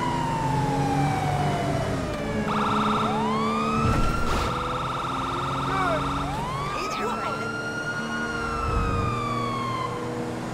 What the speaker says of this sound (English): If you wanna hold the honky, it will play the siren in a different tone like this one